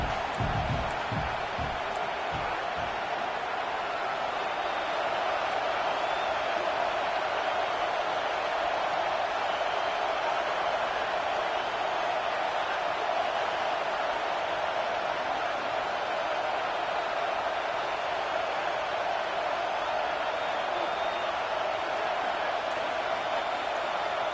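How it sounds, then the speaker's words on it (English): A stadium crowd roars at a football game during a big fourth-down play, a dense, continuous wash of distant cheering and noise that holds steady throughout. "This crowd bringing serious noise on this huge 4th down play."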